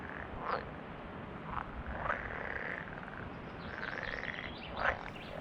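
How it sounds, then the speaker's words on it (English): Pond frogs croak in a warm-weather nature reserve, several rasping calls rising out of a steady outdoor hiss, moderately near, with no talking. "The pond frog likes warm weather, a living fossil from a warmer time."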